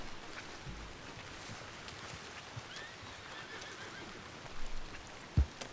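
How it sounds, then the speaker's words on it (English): In the game Red Dead Online, a horse whinnies softly amid a steady wash of rain-like noise and faint hoof clops, with a sharp thump near the end. "Jump on the horse."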